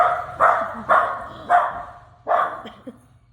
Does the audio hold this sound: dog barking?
yes